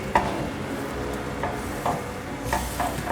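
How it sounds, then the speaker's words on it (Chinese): Tomato and yellow bell pepper stir-fried in a wok with a splash of water, giving a steady close sizzle with repeated scraping stir strokes throughout, no voices. "现在放入黄甜椒，快速翻炒"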